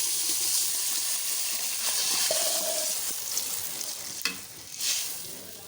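Onions and tempering spices frying for a fish curry make a continuous close sizzle and hiss, broken by a few stirring clatters near the end, with no talk.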